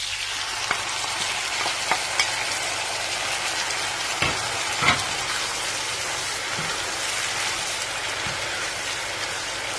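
Beef strips frying in a hot pan for pepper steak, a steady dense sizzle with occasional sharp pops and spatters, moderately close and without any talking.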